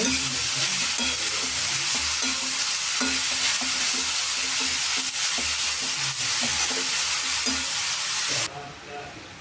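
Grated carrot frying in ghee in a pan, a steady loud sizzle with repeated scraping stirs throughout, the sizzle dropping sharply near the end.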